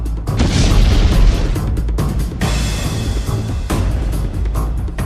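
An anti-tank missile blast in the war in Ukraine: a few powerful, deep booms spaced seconds apart, loud and near, with continuous rumbling between them.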